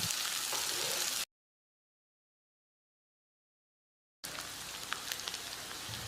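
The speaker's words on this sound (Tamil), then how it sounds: "வெங்காயத்தை பொன்னிறமாக வதக்கிடலாம்." Two large onions, sliced lengthwise, sizzle and fry in a pan for restaurant-style chicken masala, a steady crackling hiss broken by a silent gap of about three seconds before it resumes with occasional pops.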